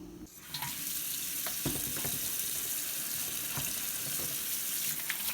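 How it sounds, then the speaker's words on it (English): Hands being washed under a kitchen tap, a steady, close rush of running water splashing into the sink throughout, with no voices. "we're going to need to wash our hands"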